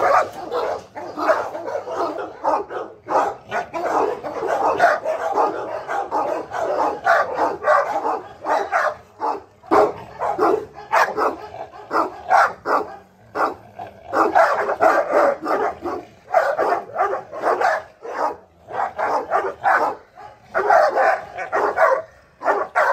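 Two dogs bark and snarl at each other in a noisy fight: rapid, loud bursts of barking, yips and whimpers that come one after another without a break.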